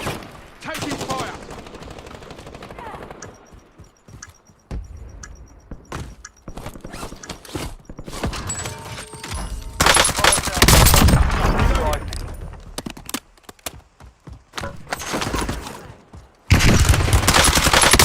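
Video game gunfire in Call of Duty Warzone comes in scattered bursts and single shots mixed with mechanical clicks, some loud and close and some farther off, with a voice speaking between them.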